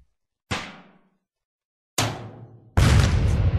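Cannon blasts in Happy Wheels: two separate booming shots with fading tails, followed by a louder, sustained roar of noise, with no talking.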